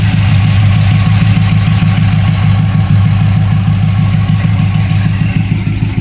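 Small-block Chevy V8 in a 1984 Camaro with long-tube racing headers, idling loud and close with a steady, deep, lumpy exhaust rumble throughout.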